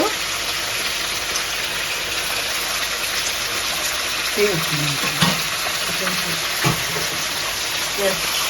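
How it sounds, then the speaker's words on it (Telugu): Chicken pieces fry in a pan with a loud, constant sizzle throughout, and a voice speaks briefly over it in the second half. "ఇలా వేగాలి బాగా"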